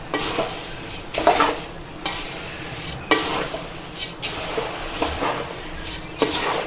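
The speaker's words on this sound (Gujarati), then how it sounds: "બધા મમરા ઉપર પીળો કલર એટલે કે હળદર ચડી ના જાય ત્યાં સુધી આપણે સરસ રીતે મિક્સ કરીશું" Puffed rice tossed with turmeric in a metal pan, a spoon scraping and clinking against the pan in repeated strokes with brief pauses, close and fairly loud, no voices.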